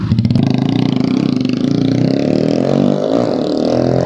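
A Yamaha SZ motorcycle engine runs loud and steady at close range, with a throaty rumble and revving through a short departure on a test ride.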